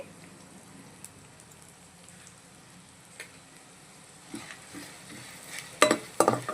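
Oil sizzles quietly, then sharp crackles and pops burst out more loudly toward the end as tempering spices and asafoetida fry in oil.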